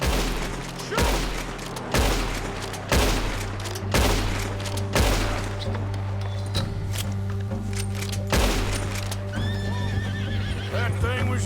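In Red Dead Redemption 2, gunshots are fired at a bear. Several loud, evenly spaced shots ring out over a horse neighing and hooves clopping, with people talking now and then.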